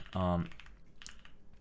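Short burst of keystrokes typed on a keyboard fitted with Durock T1 and Sunflower tactile switches, a quick cluster of close clacks followed by fainter scattered key taps.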